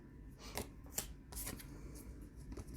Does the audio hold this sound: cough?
no